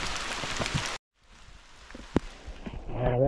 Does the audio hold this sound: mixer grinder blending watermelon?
no